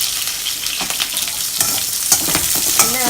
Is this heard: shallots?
yes